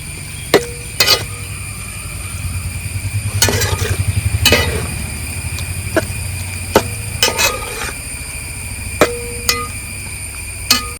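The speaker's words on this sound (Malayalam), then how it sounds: "ഇതിനൊക്കെ നന്നായിട്ട് ഇളക്കുക, ആ ഉള്ളി മസാലയൊക്കെ കൂടാൻ വേണ്ടിയിട്ട്" A spoon scrapes and clanks against a pan while oyster and onion masala is stirred in a Kerala village kitchen, with sharp metallic knocks over a soft sizzle and a steady background hum.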